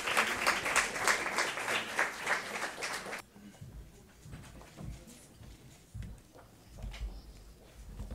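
An audience applauds loudly to welcome the First Lady of Rwanda at a New York 'Innovative Partnerships' event, the dense clapping cutting off after about three seconds, followed by quiet room noise and footsteps.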